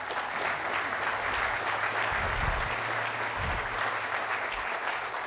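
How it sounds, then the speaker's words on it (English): Audience applause at the BART Silicon Valley groundbreaking event, a steady wash of many hands clapping at moderate distance, even and continuous with a faint low rumble underneath. "you really should get a lot of the applause today"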